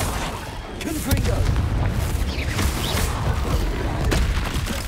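Repeated Confringo spell explosions in Hogwarts Legacy make dense, booming bursts amid the chaotic noise of a fight, loud and sustained over several seconds.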